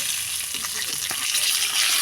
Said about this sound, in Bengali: আমরা একটু সময় মাছটা হালকা ভেজে নিয়েছি